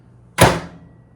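A microwave oven door shuts in a home kitchen pantry nook with one short, sharp thunk and a quick fading tail, close and alone in a quiet room.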